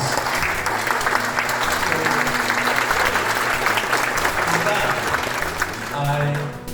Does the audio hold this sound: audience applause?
yes